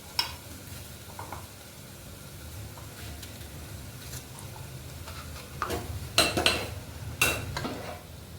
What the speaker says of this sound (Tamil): தக்காளி போடலாம்.